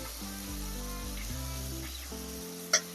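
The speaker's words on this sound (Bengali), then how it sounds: "এখন দিয়ে দিচ্ছি টমেটো কুচি।" Chopped tomato frying in a pan for a Bengali jackfruit curry, a steady close sizzle running under soft background music, with a brief louder splash near the end.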